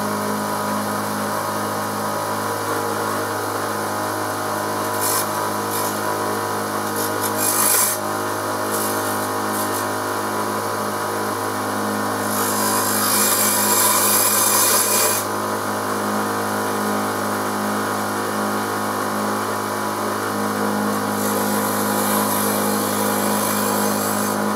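A grinding wheel being dressed with a diamond dressing block gives a steady abrasive rasp over a constant motor whine, growing harsher and louder in several bursts of heavier rubbing.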